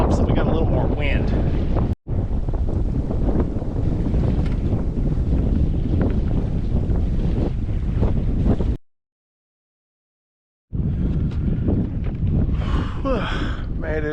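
Steady wind roars over a sailboat under sail in the Florida Keys area, broadband rushing with buffeting microphone gusts and faint water wash, cutting out briefly twice before returning.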